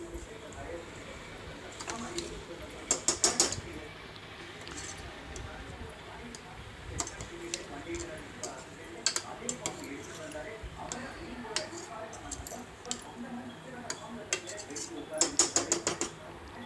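Ghee-fried rice being stirred into vegetable biryani masala in a cooker pot, with bursts of sharp spoon clinks and scrapes against the metal coming in short clusters over a quiet kitchen background.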